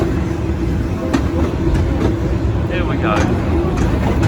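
Steady rumble and rattle of a carriage on the oldest electric railway in the world at Brighton, heading to the Marina, with a few sharp clicks and squeaks over the running noise, close and continuous.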